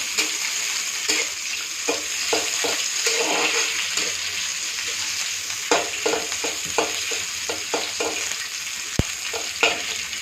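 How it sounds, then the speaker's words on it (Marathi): Onion and cauliflower fry with a steady high sizzle in a pan for veg rice, while a spoon scrapes and stirs them in repeated clattering strokes, close and loud with no talk. "कांदा फ्लावर टाकत आहे फ्लावर भाजून घ्यायचे"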